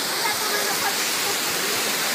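A waterfall at night in Baños roars as a dense, constant rush of broadband noise, steady and loud throughout, with voices faintly mixed in.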